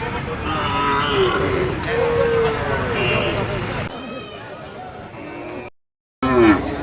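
Cattle, including bulls, low out at a busy livestock market, a few drawn-out moos rising over constant crowd chatter and nearby talking, with a short dropout near the end.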